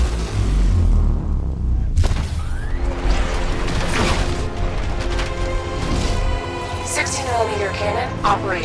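Heavy booming blasts and mechanical clanking from a tank's 60mm cannon in the video game Batman: Arkham Knight, with a big cannon-like shot, rumbling machinery and whining tones throughout.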